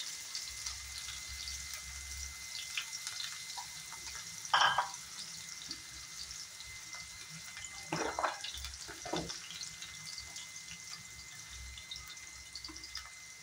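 Onions frying in a pan for a bhindi dish give a quiet continuous sizzle, broken by a few short scraping stirs and clinks, with no voices.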